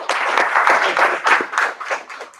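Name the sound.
audience applause, clapping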